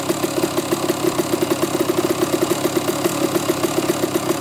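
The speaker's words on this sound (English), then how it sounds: "And now it's idling perfect." A dirt bike engine idles after its idle screw has been adjusted, a steady, loud, close putter with an even rapid rhythm and no voices over it.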